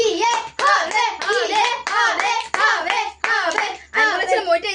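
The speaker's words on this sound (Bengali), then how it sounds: "হবে সবাই হাততালি" A group of people clap in steady bursts during a peanut-shelling game at home, loud close handclaps mixed with excited children's voices and cheering that repeat in short rounds.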